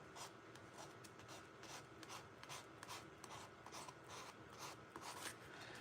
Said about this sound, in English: I'm just going to sand this one a little bit